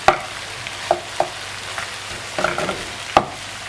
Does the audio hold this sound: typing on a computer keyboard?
no